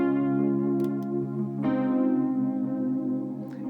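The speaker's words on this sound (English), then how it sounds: "I've also got this analog atmosphere sound that's becoming one of my favorites," A Roland Fantom synthesizer playing an analog atmosphere patch: a warm, sustained pad chord that swells and shimmers with a slight change midway, heard close and alone.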